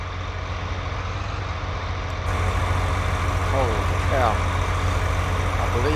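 Tractor engine driven at low speed toward a trailer, a steady, close diesel-like drone with a deep rumbling hum that grows slightly louder partway through, and a brief voice is heard over it.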